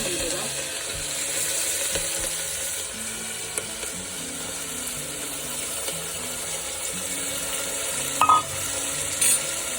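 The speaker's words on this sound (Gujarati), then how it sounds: "હવે આપણું તેલ આવી ગયું છે રાઈ જીરું નાખી દેવાનું છે એમાં હિંગ નાખી દેવાની છે" Mustard seeds, cumin and asafoetida crackling and sizzling in hot oil for Gujarati masala rice, a steady spattering fry with occasional stirring clinks and a couple of sharp pops near the end, no talking.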